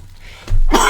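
A person gives one sudden, loud, close cough or harsh throat-clearing burst after a moment of near silence, the rough sound filling the last half second.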